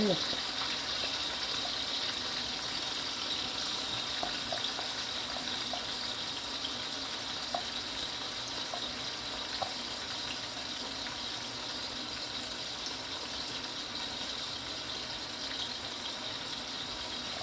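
Pieces of pork with garlic fry gently in oil over medium heat, giving a steady, fairly quiet sizzling hiss with scattered small pops and crackles all the way through.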